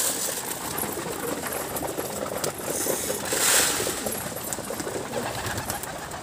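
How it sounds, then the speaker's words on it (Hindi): A dense, continuous patter of small taps and pecks with soft cooing and fluttering, as a flock of pigeons pecks up grain close by. "किस तरीके दस कबूतर दाना उठा रहे"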